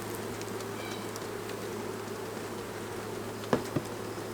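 Honeybees in a first-year colony hive give a steady, close insect buzz throughout, with a couple of brief knocks near the end as bees are tapped down into the box.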